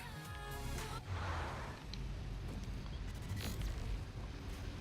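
A sudden explosion booms out in a video game, with a rumbling burst after about a second over steady background game noise and wind-like hiss.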